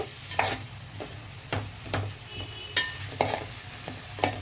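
Plantain pieces are stirred in a pan with fish curry, a spoon scraping and knocking about every half second over a low simmering sizzle, close up with no voices.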